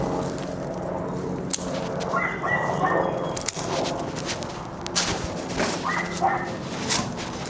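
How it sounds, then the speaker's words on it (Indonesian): Neighbours' dogs bark in short, intermittent bursts from a distance around a backyard, mixed with faint yips and scattered outdoor noise. "Jadi sering dengar suara anjing gonggong."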